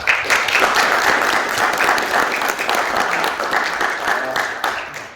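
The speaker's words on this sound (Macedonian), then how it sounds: "Сакам на почеток еден голем аплауз за сите вас што одлучивте да дојдете тука" Audience applause at a book launch for an educational cryptocurrency book, steady dense clapping from a sizable crowd that stays loud for about five seconds before tapering off slightly at the end.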